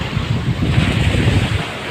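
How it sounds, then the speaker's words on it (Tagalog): Strong ocean waves breaking along the coast at Brooks, Palawan, a loud, continuous roaring surf close to the microphone, with wind buffeting mixed in. "Uy, lakas ang alon"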